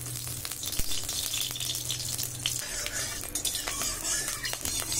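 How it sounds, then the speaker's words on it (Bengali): Mustard oil sizzles in a hot kadai, a continuous crackling hiss with a metal utensil clinking and scraping against the pan now and then. "দিয়ে দিচ্ছি সর্ষের তেল।"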